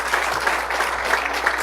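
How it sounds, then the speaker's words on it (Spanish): Audience applause for Dr. William Soto at a gathering, a dense, steady burst of clapping that fills the whole moment at moderate loudness without a break. "Un fuerte aplauso al doctor William Soto"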